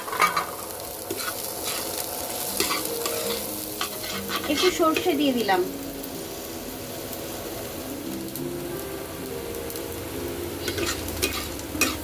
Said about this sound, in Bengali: পেঁয়াজটা ভাজা হচ্ছে